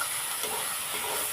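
Dhenki greens with shrimp fry in a pan, a steady soft hiss and sizzle that holds evenly and quietly throughout.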